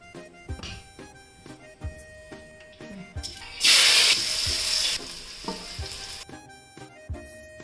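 A sudden loud sizzling hiss erupts as oil hits a hot pan for a Kerala-style jackfruit dish, lasting a couple of seconds before fading, with scattered clinks and taps around it.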